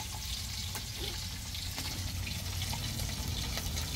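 Steady crackling sizzle of tocino frying in hot oil, close and constant throughout with no talking.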